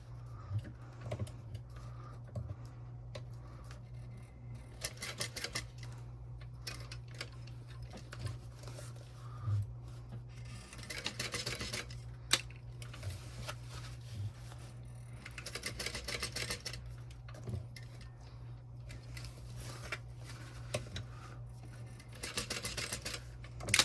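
A sewing machine stitches a box through both layers of a messenger bag, running in repeated bursts of quick, even mechanical ticking over a low motor hum, with short pauses between runs, quiet and close.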